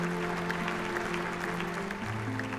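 Applause for graduates at a graduation ceremony, a steady crowd clapping that stays dense and even throughout, with a sustained musical or crowd drone underneath.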